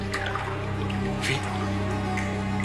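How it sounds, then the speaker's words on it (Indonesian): Water drips steadily inside an echoing space beside a forbidden lake, each drop faint and soft over a low constant hum, with scattered brief splashes and no voices. "lu dengar tetesan lagi nggak?"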